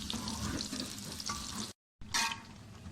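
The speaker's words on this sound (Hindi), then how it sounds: "प्याज का तड़का बनाने के लिए प्याज डाल दी है तेल में।" Onions fry in hot oil for a tadka to top daleem, crackling and sizzling steadily up close. The sizzle is cut off by a short silent gap, then returns with a burst of stirring.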